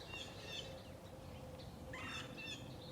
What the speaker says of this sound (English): I heard a turkey too.